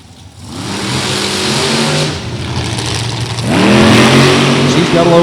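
Super Comp drag race car at Beech Bend, engine idling loudly, then building in pitch as it revs up hard near the end, with the rising harmonic whine clearly audible.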